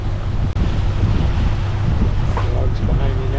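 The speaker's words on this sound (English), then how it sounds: "Motor sailing with one engine." A sailboat motor-sailing on one engine through light breezes in the British Virgin Islands: a steady low engine drone sits beneath loud, constant wind buffeting and water wash, with one sharp knock near the start.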